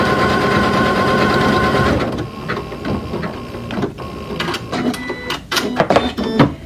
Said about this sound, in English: I could just keep stitching and stitching away until I have all of my hearts done.